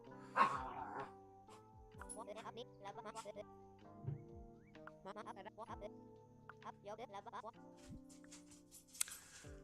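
In the video game Dinkum, dogs yap in short bursts through much of the stretch, mixed with soft in-game ambience. A person talks over the barking at moderate volume.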